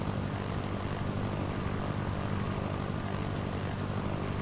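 Steady, loud drone of a Cessna propeller engine in a flight simulator game, a continuous buzzing hum with no change across the few seconds.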